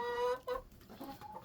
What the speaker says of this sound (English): So I got 3 broody hens.